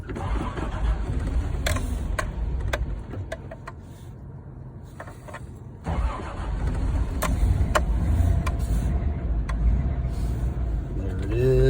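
A 1987 Toyota Land Cruiser FJ60 cold-starting with the choke out and the throttle pumped: steady cranking with sharp clicks, then the engine catches about halfway through and settles into a loud, rough, close-up idle.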